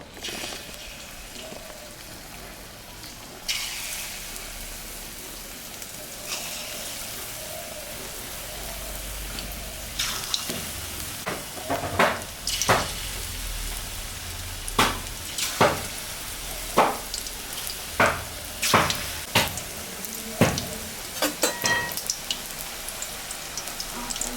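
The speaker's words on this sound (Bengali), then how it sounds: "সর্ষের তেল দিয়ে দিলাম গরম হয়ে গেছে এখন আমি পকোড়াটা ভাজবো" Snake gourd pakoras fry in hot mustard oil, a steady soft bubbling hiss that grows busier partway through, with sharp spattering pops recurring every second or so, no voices.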